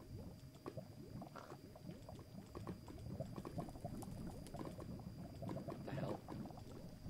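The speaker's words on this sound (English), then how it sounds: "This lava flow is fucking messed up." Lava flowing in Minecraft gives a faint, continuous bubbling and popping, a quiet stream of crackly liquid sounds with no talking.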